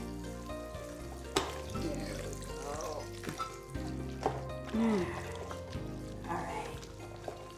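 Liquid is poured into a pot of onion soup while it is stirred, giving soft splashing, sloshing and scraping sounds under steady conversation between two people working together in a kitchen.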